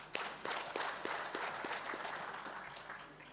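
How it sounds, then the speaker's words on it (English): Faint applause from a business forum audience honouring the MC, with distinct individual claps standing out early before merging into a soft, even patter that slowly thins. "A big round of applause to our MC"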